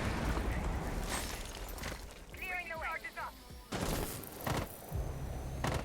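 Bursts of gunfire in a video game, several loud broadband volleys spread across a few seconds over constant game noise, with players talking at times.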